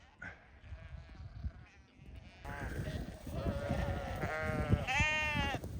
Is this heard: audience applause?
no